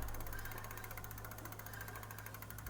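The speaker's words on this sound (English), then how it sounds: "Spin the wheel again." An e-bike wheel spins freely after a hydraulic disc brake install, giving a quiet steady whirring hum with a faint rapid rhythmic ticking and no rubbing, close and alone.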